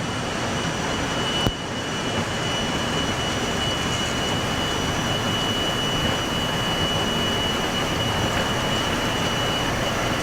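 Boeing 737 Classic jet engines held at takeoff thrust, heard from the cockpit as a steady, loud, broadband roar with a faint high whine and one brief click near the start.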